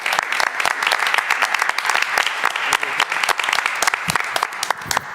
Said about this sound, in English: Please applaud for it.